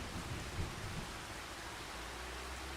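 Rain and thunder from the farming video game Farming Simulator 25: a steady wash of rainfall with a low rolling thunder rumble in the first second, moderately quiet and continuous.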